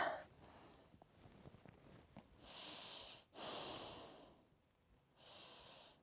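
Close, breathy exhales and inhales during a power yoga flow, several long airy breaths in slow rhythm, soft and steady with no talking.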